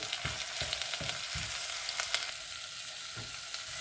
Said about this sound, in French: On va se mijoter un tout petit peu